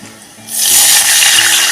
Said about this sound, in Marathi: मिनिटभर परतूया आणि त्यामध्ये टाकणार आहे आता पाणी